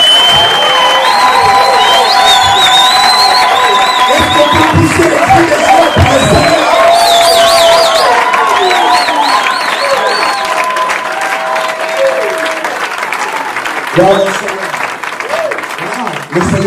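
A church congregation applauds and cheers loudly in praise of the Lord, with sustained clapping, whoops and shouted voices that build, then thin out toward the end, while singing and voices carry over the top.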